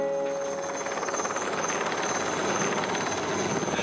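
A helicopter flies over a high-mountain construction site beside an alpine hut, giving a steady broadband rotor roar with a fast pulsing beat. It stays loud and fairly close throughout and is the only sound.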